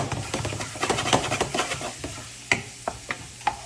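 Minced garlic sizzling in hot oil in a pan for a beef and vegetable stir fry, a steady close frying hiss with repeated scraping stirs and a few sharp utensil clinks against the pan.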